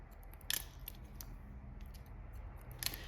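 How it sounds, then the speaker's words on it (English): Scissors snipping hair during a short edgy haircut, point cutting into the lengths on top of the head; a few quick, crisp snips close by over a quiet background. "same thing, point cut into that."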